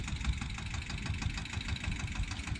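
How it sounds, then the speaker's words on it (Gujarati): A mini tractor engine runs at a low idle, making a steady, fairly quiet rhythmic chugging with rapid even pulses and no voices. "કેશુભાઈનું ટ્રેક્ટર છે મિની"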